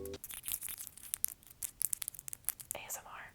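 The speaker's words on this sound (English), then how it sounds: "You can hear the clicking of my nails." Fingernails click in a quick, irregular run of sharp taps, close and fairly quiet, with a soft rustle toward the end and no talking.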